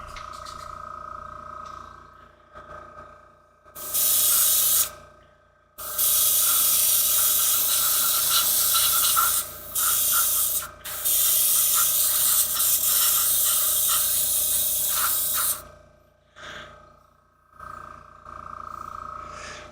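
Airbrush spraying paint in long bursts of steady hiss separated by short pauses, close and loud, with low background hum between bursts.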